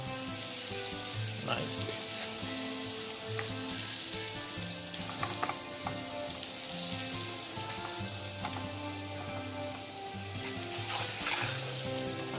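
An ounce of butter sizzling in a hot pan for alfredo sauce, a dense continuous frying hiss with faint scattered pops and light clinks, and a brief spoken word over it.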